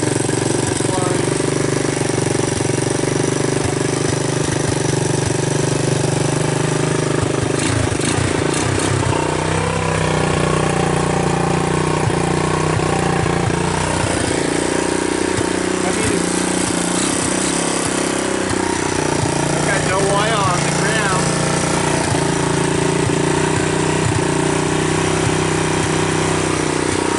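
A trashed, abandoned Honda TRX 200 ATV runs rich, its engine idling with a steady rough chug, then revving up and settling back down a few times, close and continuous throughout.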